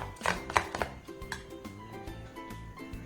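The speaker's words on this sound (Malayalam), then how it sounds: "ഇനി ഇത് സ്പൂൺ വെച്ചിട്ട് നന്നായിട്ട് ഇതുപോലെ ഒന്ന് അടിക്കണം" Spoon beating vada batter in a bowl, with several sharp close knocks in the first second followed by softer, steadier tapping and scraping.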